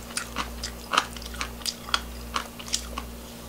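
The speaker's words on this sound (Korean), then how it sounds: "무가 아작아작 이렇게 잘 씹혀요" Someone chews crunchy radish from fermented cutlassfish sikhae close up, with a steady series of about eight crisp bites and crunches and no talking.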